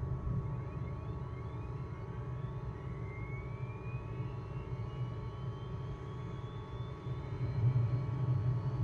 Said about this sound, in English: So we'll start engine two first.